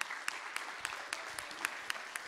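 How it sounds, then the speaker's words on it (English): A church congregation applauds for a pastor, a steady wash of clapping with a few sharper individual claps cutting through at roughly regular intervals, moderately distant and without talk. "So if we can please give Pastor Page a huge round of applause."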